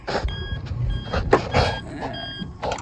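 A Motrec 360F electric cart gives off a steady series of high, evenly spaced reversing beeps, heard fairly close over low mechanical rumble and bursts of broadband noise.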